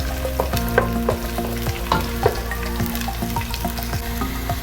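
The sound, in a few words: green beans frying with garlic and ginger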